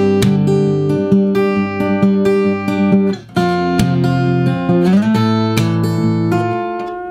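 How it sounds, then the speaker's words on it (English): Guitar in DADGAD tuning plays a fast picking pattern over a barre-chord progression in a blues etude, with bright ringing notes, steady rhythmic attacks and chord changes, heard alone and up close. "we're going to employ a speedy little picking pattern over a bar chord progression."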